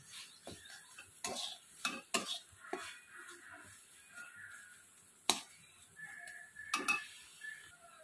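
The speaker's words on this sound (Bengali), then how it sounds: "এবার আমি ভালো করে মিশিয়ে নেব।" Mashed banana stem being stirred with mustard oil and green chillies, quiet scraping and clinking of a utensil against a pot in irregular strokes, with a few sharper knocks, close and soft.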